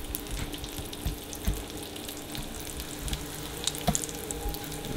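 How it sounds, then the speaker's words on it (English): Sausage fries in a pan with a steady crackling sizzle and occasional pops, close and continuous. "I'm cooking me some sausage right now"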